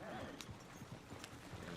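Horses in the video game Red Dead Redemption trot with a repeated clip-clop of hooves and give a brief whinny, set against background game sound and faint voices.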